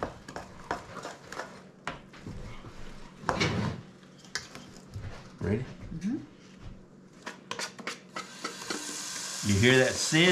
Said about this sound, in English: Sizzling, that's what you gotta have.